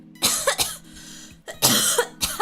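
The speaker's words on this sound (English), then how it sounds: "I have like a dry cough, I suppose, from vomiting." A person with a dry cough from vomiting coughs in a few harsh, close bursts: a pair, a pause, then another pair, with no talk.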